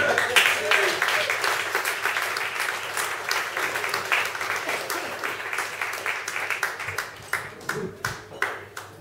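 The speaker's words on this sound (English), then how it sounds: "Give us another round of applause for Jane." A live audience applauds for a woman named Jane at an event in Glasgow, a dense round of clapping that thins into scattered individual claps toward the end.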